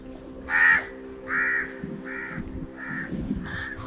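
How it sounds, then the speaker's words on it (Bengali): A crow perched on a pillar among the ruins of Dhanushkodi, India, caws about six times, loud and close, each call a short harsh burst over a low steady hum. "এই পিলারটা যেখানে একটা কাক বসে এখন কা কা করছে"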